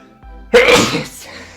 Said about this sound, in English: Yeah, it's true, I'm sneezing.